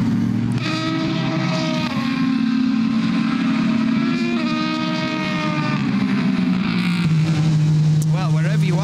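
Onboard a Ford GT GTE Pro race car at the Nürburgring 6 Hours, a loud droning engine with rising and falling pitch through gear changes, under steady commentary.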